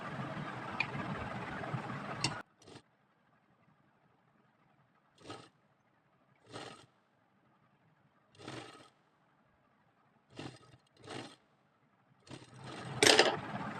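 A sewing machine stitches lace onto trousers in short, separate bursts of running, with quiet pauses between them and a louder rattle near the end.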